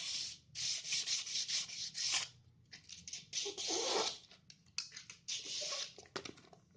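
Sandpaper rubbing along a flexible rattan cord being prepared for a Sundanese bamboo flute, close and steady strokes in repeated bursts with short pauses, no voices.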